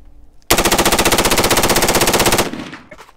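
A WWII-era British Bren Mk II light machine gun fires one loud, sustained burst of rapid, evenly spaced shots lasting about two seconds, then the sound decays into a short echo.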